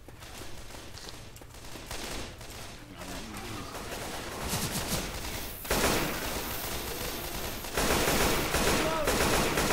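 Rapid assault rifle fire in a video game, loud and continuous in sustained bursts that grow denser and harsher toward the end, with some game effects mixed in and no clear speech.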